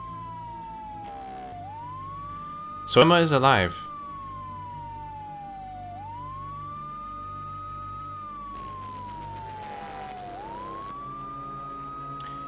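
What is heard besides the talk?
police siren sound effect resampled in music, video game Mizzurna Falls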